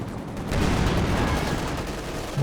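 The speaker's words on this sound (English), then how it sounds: "A big hit from the Panzer IV." A Panzer IV tank gun lands a big hit in a Company of Heroes 2 battle, one heavy booming blast that rumbles on in a dense, sustained roar of gunfire and combat noise.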